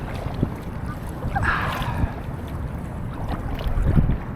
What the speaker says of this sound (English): The wind kind of looks like it's picking up right now.